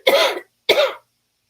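Two short, sharp coughs, one right after the other, close to the microphone with silence between and after.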